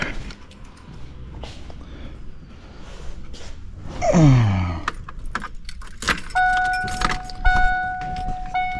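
Car keys jangle close by beside a 1992 Fox Body Mustang, a burst of bright metallic clinks in the middle of the clip, then scattered clicks and a high electronic tone against quiet background noise.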